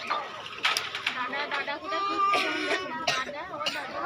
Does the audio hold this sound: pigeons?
yes